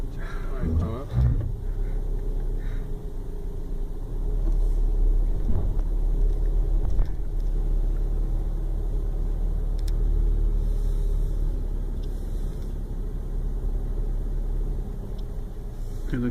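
A car creeping downhill under automatic hill descent control with the brakes released, on air suspension, giving a low steady engine and road rumble inside the cabin while people talk over it.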